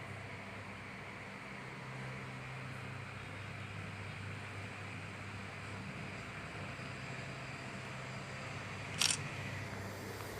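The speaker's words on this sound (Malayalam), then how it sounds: "ഫോട്ടോ എടുത്തു." A single crisp camera shutter click from a mobile phone taking a photo, brief and close, sounding once near the end over a quiet steady hum.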